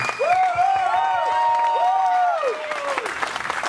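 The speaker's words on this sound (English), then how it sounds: "please give a big round of applause to the founding members of New England Cricket Club" A crowd at a cricket club's annual awards claps and cheers for its founding members; steady applause runs throughout, with a few long sustained tones, like whistles or whoops, rising above it near the start.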